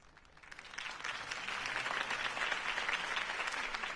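A crowd breaks into sustained applause after a campaign speech for Harvey Dent in the Batman Telltale video game, swelling from a soft start into steady, dense clapping that holds throughout.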